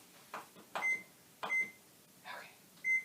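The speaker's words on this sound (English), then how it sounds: "Sorry, our microwave is weird sometimes." A household microwave oven gives a series of short electronic beeps, five spaced chirps in an uneven rhythm, fairly quiet and close in an otherwise still kitchen.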